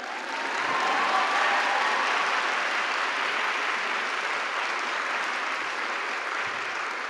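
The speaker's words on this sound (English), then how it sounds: "you can clap" A lecture-hall audience applauds steadily and loudly for several seconds, a dense continuous clapping without a break.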